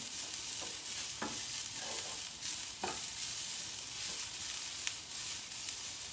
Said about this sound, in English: We'll stir fry this up a little.